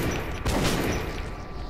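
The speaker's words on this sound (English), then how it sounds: "I heard a gunshot." Gunfire in the Metro 2033 video game: a short burst of shots with a booming crack in the middle, surrounded by dense, noisy in-game ambience.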